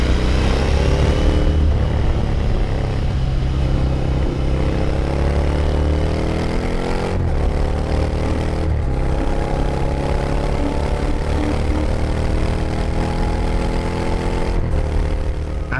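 A Royal Enfield 650 Interceptor twin with a 270-degree crank and stock factory exhausts runs loud and close, a steady throbbing engine note that rises in pitch as it revs.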